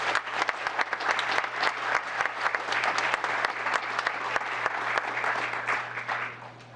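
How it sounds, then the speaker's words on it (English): A room full of people at a town council meeting applauds a high school boys basketball team that won a Division II state championship, with dense, sustained clapping at a steady level throughout before it tapers at the end. "Let's give them a round of applause."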